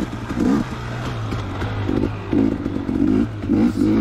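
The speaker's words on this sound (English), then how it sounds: "the 250 is running really well. Sounds really crisp" A 2019 KTM 250XC dirt bike engine runs close by at a steady low idle hum, broken by several short throttle blips that swell and fall back in an uneven rhythm, with no voices.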